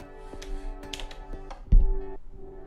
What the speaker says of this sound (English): It sounds like this lo-fi drum track.